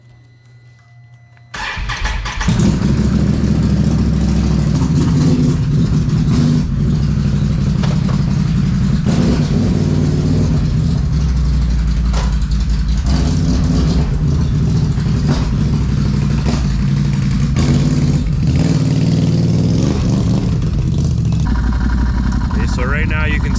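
A 2022 Can-Am Renegade 1000 XMR ATV with an upgraded clutch fires up and holds a loud, close, sustained engine roar with rising and falling pulls, near-constant for over twenty seconds.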